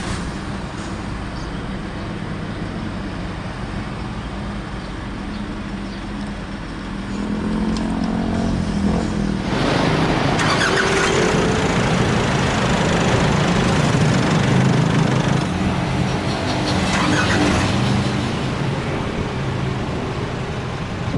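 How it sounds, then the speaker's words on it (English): A 2022 Nissan Terra 2.5 4x4 SUV engine fires up partway through and settles into a steady, close rumble that continues loudly with some fluctuation. "hit this engine start stop button to fire up the engine."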